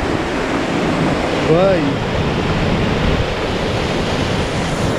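A waterfall's rushing water roars as a loud, steady broadband wash with strong wind buffeting the microphone, while a voice speaks briefly over it.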